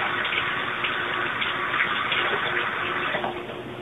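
Steady running water at a sink while hands are washed with antibacterial dish liquid, a continuous close rushing spray that eases slightly near the end.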